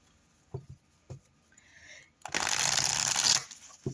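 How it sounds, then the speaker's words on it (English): Literary Witches Oracle cards being shuffled and drawn: a few soft taps and slides, then a loud, close riffling shuffle lasting over a second, with no talking. "I'm going to pull 3 cards from the Literary Witches Oracle"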